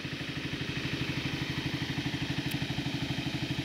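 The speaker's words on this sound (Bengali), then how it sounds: "এরকম একটা লেকে এসে যান্ত্রিক বোটের শব্দ আসলেই একদম মানে কি বলবো, অত্যন্ত বিরক্তিকর।" Motor boat engine running on Mahamaya Lake, a steady close throbbing drone with rapid regular pulsing that holds evenly throughout, no speech.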